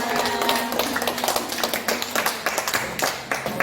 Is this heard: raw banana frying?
no